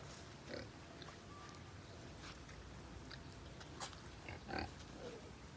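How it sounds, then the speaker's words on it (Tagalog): Piglets in a pig pen, one suffering from mange, give faint grunts and snuffles with some chewing sounds over a low, steady background hum; no talking. "Yan pong biik na yan."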